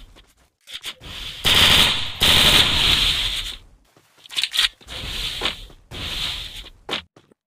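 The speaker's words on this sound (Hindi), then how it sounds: "आरएक्स मदन गोली चलाकर ग्लू लगा रहे हैं।" Bursts of automatic gunfire in the Free Fire battle-royale video game, several loud rapid-fire volleys with short gaps between them, heard alone without talk.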